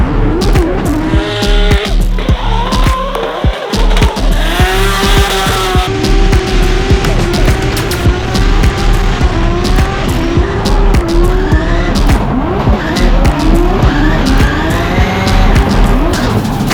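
A rally car in pre-qualification training rides with loud, close engine revving that rises and falls constantly, punctuated by tire squeal and skidding, with only faint traces of voice.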